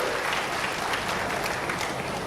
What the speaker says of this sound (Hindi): एक बार जोरदार तालियां बजाकर मुख्यमंत्री जी का स्वागत करें